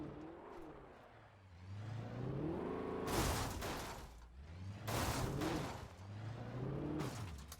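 Old car in the Alan Wake video game driving along, engine hum rising and falling in pitch with repeated bursts of louder rushing noise, fairly quiet overall.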